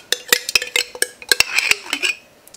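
Metal tablespoons scoop mayonnaise and clink sharply against a dish, a quick irregular run of bright, close taps and scrapes with no talking.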